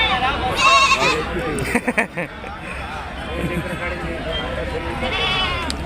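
Goats and sheep bleat amid the crowd at a busy livestock market, with several overlapping cries standing out early and again near the end over a steady din of people talking.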